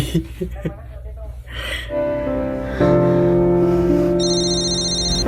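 Rustling and a short breath give way to a steady electronic phone ring that rises and keeps repeating, with a higher tone joining near the end.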